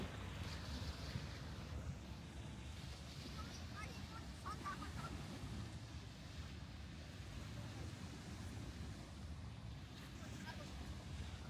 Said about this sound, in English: I'm gonna show y'all the ocean because it's just absolutely breathtaking.